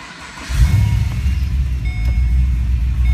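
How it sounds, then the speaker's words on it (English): A manual 2010 Holden Commodore VE GTS V8 fires up after a short quiet moment, a loud low rumble that settles into a steady, throbbing idle close by. "you start the car"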